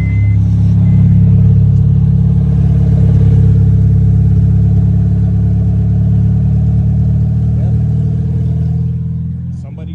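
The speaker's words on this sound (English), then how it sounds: "Customer states car is loud after starting in the morning after sitting overnight." Loud, droning exhaust from a 2006 Honda CR-V running without its stolen catalytic converter, a steady close rumble held for the whole stretch and easing slightly at the end, with no talk over it.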